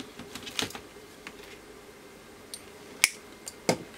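Wire cutters snip a length of wire during repair work on a Hurner HST-S-315 electrofusion welder, giving a few sharp isolated clicks close by with quiet gaps in between.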